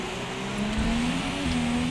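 F1 race car engine in the F1 2017 video game, Hungary circuit, humming steadily at low revs with a slight pitch rise as the car rolls in, fairly quiet and without talk.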